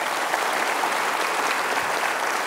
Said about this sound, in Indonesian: Kita kasih tepuk tangan untuk Pak Kalapas.